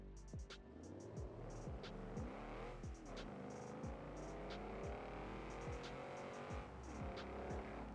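BMW E34 accelerating hard from a standstill to 100 km/h with tires squealing, the engine note climbing through repeated gear changes, loud and close, with no talk.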